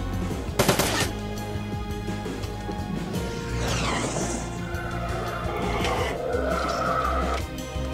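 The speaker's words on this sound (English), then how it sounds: "Maybe the turrets could actually learn how to shoot" Combat in the video game Shadowrun: Dragonfall, with turrets firing rapid bursts of gunfire amid crashes and laser-like whooshes, loud and dense throughout with no talk over it.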